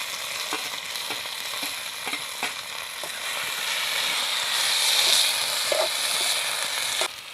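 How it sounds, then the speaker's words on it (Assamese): Tomatoes fry in a karahi wok, a steady close sizzle with irregular clicks and scrapes of stirring that grows a little louder toward the end. "সেয়া বিলাহী প্ৰথমতে কেৰাহীত দি লৈছোঁ"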